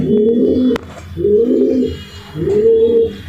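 Racer pigeons coo in three rhythmic, rolling phrases, close by and clear, with no talking over them.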